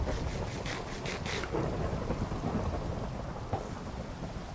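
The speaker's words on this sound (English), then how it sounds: "Now we got thunder." A Minecraft thunderstorm: steady rain hisses throughout while thunder rumbles low, with a sharper crack near the start and another rumble a few seconds later.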